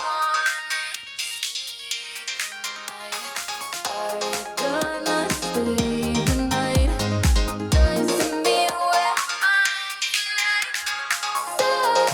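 Music plays through an Omnitronic TRM-222 rotary DJ mixer with its filter's resonance cranked up, giving a bright, sweeping, ringing tone over a steady beat that swells and thins across roughly twelve seconds, with no talking.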